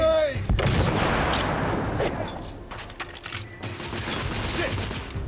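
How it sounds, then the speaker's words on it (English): Heavy gunfire in the video game The Order: 1886, a dense, loud barrage of shots and blasts that keeps up throughout with no pause. "I'm under heavy fire!"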